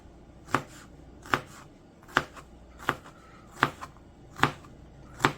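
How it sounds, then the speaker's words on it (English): A knife chops ingredients on a cutting board for slow-cooked soup beans, giving seven evenly spaced, crisp thuds about one per second, close and clear with no talk. "Now you can determine how much of this you want to chop up."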